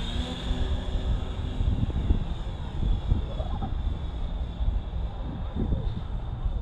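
Radio-controlled E-Flite model airplane taking off, its electric motor giving a steady whine through the whole stretch over broadband outdoor wind and rumble, the pitch holding fairly constant at moderate loudness.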